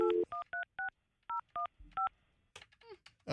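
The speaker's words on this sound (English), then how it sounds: "Calling Julian's cell phone in Lower Manhattan" A phone keypad beeps out a rapid series of clipped dialing tones, eight short evenly spaced tones in a row, loud and clear, followed by a brief burst of mixed noise.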